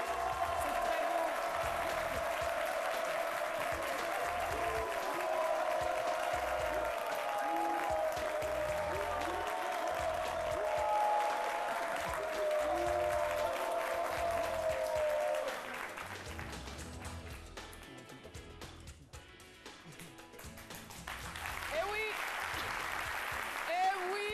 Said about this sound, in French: Admirez, appréciez, applaudissez.